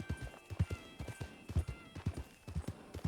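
Horse hooves clip-clopping in the video game Fortnite, a steady rhythmic series of soft thudding steps at a walking-to-trotting pace, fairly quiet and close.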